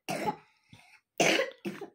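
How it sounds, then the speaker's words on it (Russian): A person coughs sharply twice, each cough followed by a short rasping throat clear, close by with no talking. "Видите, как откашливается."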